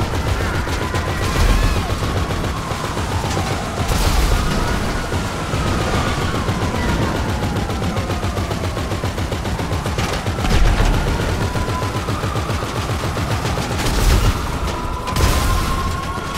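In a GTA 5 Online session, gunfire crackles in sustained automatic bursts along with louder booming shots. The shooting goes on steadily throughout, loud and close.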